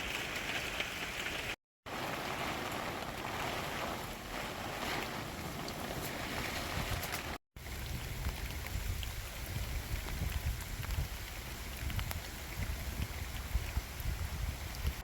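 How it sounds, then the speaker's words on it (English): Steady rain falls on an October allotment in British weather, a continuous hiss of drops with a low rumble like wind, alone with no voices, interrupted by two brief cuts. "Sunshine to rain."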